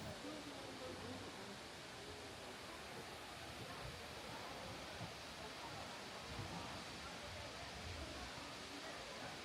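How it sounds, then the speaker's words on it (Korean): An urban waterfall beside a cafe pours with a constant broad rushing roar, heard from a raised spot at a distance with no breaks. "높은 곳에서 폭포를 바라보니 또 다른 느낌이네요."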